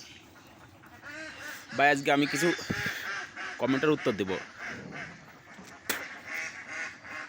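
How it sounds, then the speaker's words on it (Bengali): Ducks on a duck farm, let out in the morning, quack in short bursts close by while someone talks over them. "হাঁসগুলো সকাল সকাল ছেড়ে দিলাম"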